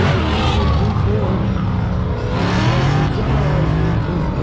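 A pro-touring muscle car, either a 1967 Mustang or a 1970 Camaro, accelerates hard on an autocross course with a loud, close, continuous engine roar that rises and falls as it shifts through the run.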